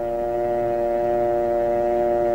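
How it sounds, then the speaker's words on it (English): A steady, continuous telephone dial tone, a flat humming tone that holds unchanged throughout, fairly loud with no pauses. "listen for the dial tone."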